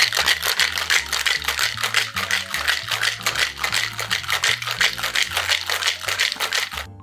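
A cocktail shaker holding a cosmopolitan with cranberry juice is shaken hard in a steady, fast rattling rhythm that keeps going for the whole stretch, loud and close over background music.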